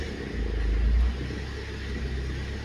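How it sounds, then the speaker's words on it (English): A Mazda car engine with a vibration fault revs up into a deep, heavy rumble with a harsh low vibration and rattling, swelling loudest briefly before settling into a steady drone. "we're just going to bring the revs up. And you can hear the rattling and everything"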